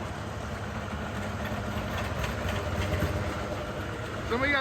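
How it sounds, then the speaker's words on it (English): A Kubota M96S diesel tractor engine idles with a low, steady rumble throughout, close by, with a brief rising whine near the end. "the tractor that we have it on is a Kubota"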